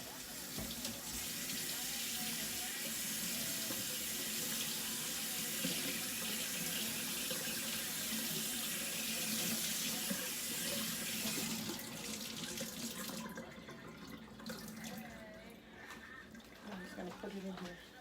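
Kitchen tap water runs in a steady, full stream to wet bread slices, loud and close for about twelve seconds before the flow drops and turns splashy, with a person talking over it.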